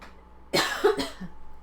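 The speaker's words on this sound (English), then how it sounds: "if you heard me coughing there" A person coughs twice in quick succession, close and sharp, followed by a small throat-clearing sound before it goes quiet.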